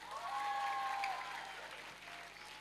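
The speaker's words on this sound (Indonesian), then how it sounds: "tepuk tangan untuk santri" An audience claps for santri at a religious lecture: a steady wash of applause that swells and then slowly fades, with a faint tone lingering under it.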